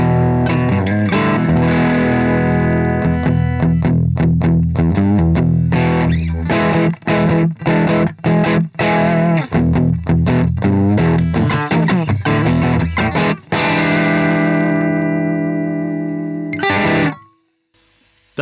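An electric guitar through an Orange Terror Stamp tube amp turned all the way up plays thick, loud distorted chords and riffs with choppy stops, then rings out and cuts to silence.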